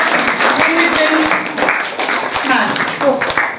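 An audience at a Sankranti music event applauds in a dense burst of clapping, with talk audible over it.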